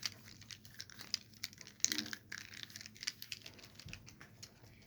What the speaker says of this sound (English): It's really fun to just like rub in your hands. Sounds like this.